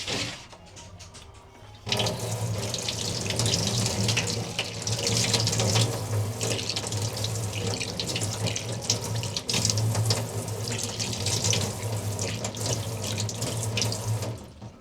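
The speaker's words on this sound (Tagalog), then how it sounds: "Tapos, diligan natin siya. Sana tumubo siya mga bebs. Tapos, lagyan na natin siya ng water." Tap water runs steadily and fairly loudly for several seconds to water a freshly planted seed, starting abruptly after a quiet moment and flowing continuously with a hollow splashing tone.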